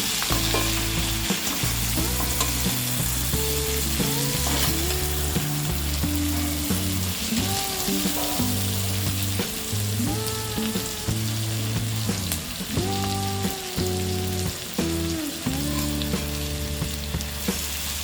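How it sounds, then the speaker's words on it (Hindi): Ivy gourd (tendli) fries in an open pan with a continuous close sizzle and stirring, running under prominent tonal background music. "टेंडली अच्छी तरह से फ्राई हो गया है।"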